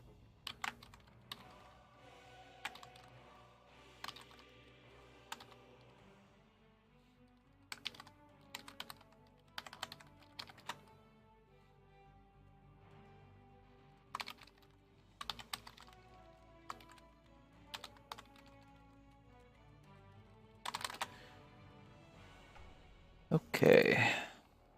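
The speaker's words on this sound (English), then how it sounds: "Just gonna type where people can find me." Typing on a computer keyboard during a Dota community game night: quiet, close clusters of key clicks in irregular bursts with pauses between them, under occasional faint talk.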